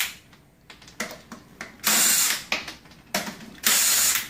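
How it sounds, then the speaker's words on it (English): Impact wrench or power drill loosening the lug nuts on a Chevrolet Tahoe wheel during a rear brake job, with bursts of whirring rattle, two long loud spins and shorter ratcheting pulses close by, no talking. "Loosen the wheel, remove it as I'm doing right now."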